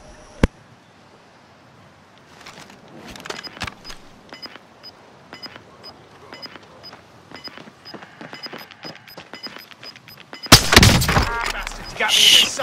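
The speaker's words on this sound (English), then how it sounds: "They're shooting somebody" Gunfire in the Warzone Caldera video game: scattered distant shots crackle over a quiet game soundscape with a faint repeating tone, then a loud, dense burst of sharp reports erupts near the end.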